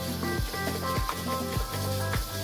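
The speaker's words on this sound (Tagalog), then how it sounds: "Lalagyan na natin ang ating pork giniling para maluto na siya." Ground pork sizzles in a pan as empanada filling, a steady hiss running beneath loud, rhythmic background music with a regular beat.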